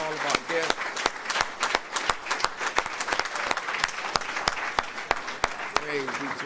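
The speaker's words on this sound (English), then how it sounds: "Let's give all those that came a warm round of applause, all of our guests." Scattered, uneven applause from an audience at a Nation of Islam gathering, with sharp individual claps standing out above a thinner crowd patter, and a voice speaking over it at the start and end.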